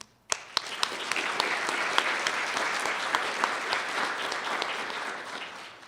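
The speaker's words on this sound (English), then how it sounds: "Please join me in giving a round of applause to these outstanding 5 finalists." An audience gives a round of applause for five finalists at a South Carolina Farm Bureau ambassador presentation, a dense, even roar of clapping that rises quickly and holds steady.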